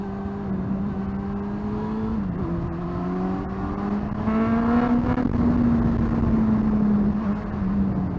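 Honda CB400 motorcycle engine burbling steadily while riding, a continuous mid-loud drone with pitch rising and falling as the throttle shifts, louder toward the middle and end.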